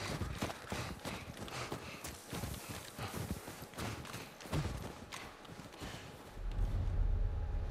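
Rapid, rhythmic clip-clop of horse hooves at a steady trot in The Last of Us Part II, close and prominent, with a low rumble building toward the end.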